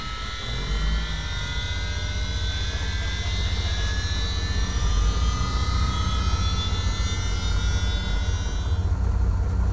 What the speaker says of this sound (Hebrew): אני אתניע את המטוס בקונטרול E כדי לעשות התנעה אוטומטית.